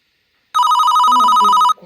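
A telephone bell rings loudly in one continuous burst of about a second, then stops, with faint room sound afterward.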